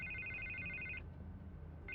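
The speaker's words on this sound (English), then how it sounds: "I can't get the phone to stop ringing." A telephone rings with a bright electronic trill lasting about a second, pausing, then starting again, heard faintly over low background rumble.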